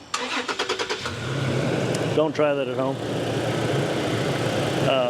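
A Toyota Tacoma V6 cranks with a rapid chugging starter rhythm, catches and settles into a steady idle, with a mechanical fan running and someone talking over it.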